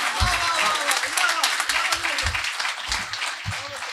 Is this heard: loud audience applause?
yes